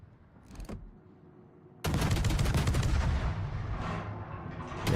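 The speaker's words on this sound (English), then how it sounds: "There's the guns." Naval guns fire in World of Warships: a brief crack, then a sudden, loud, sustained roar of heavy gunfire that rumbles on and swells again at the end.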